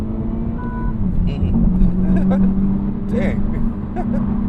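A 2024 Honda Civic Type R engine drones steadily and loud from inside the cabin, climbing gradually toward its 7,000 RPM redline, with a brief spoken exclamation over it.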